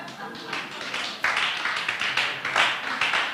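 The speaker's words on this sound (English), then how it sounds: "If you want to clap, you clap well." An audience claps at a preparatory business seminar, dense sustained applause that swells and surges in waves, close and loud throughout with no talk over it.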